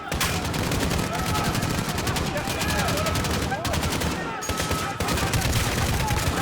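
Rapid, continuous automatic AK rifle fire in Call of Duty: Modern Warfare rattles loudly and densely throughout, with one brief gap before the bursts resume.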